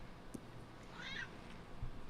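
A loud male house cat lets out a single drawn-out meow, faint and a little distant, against quiet room tone.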